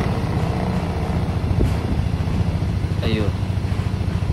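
Honda Click 125i scooter engine running at idle with a steady close buzzing drone and a slight rev change, while a person talks over it.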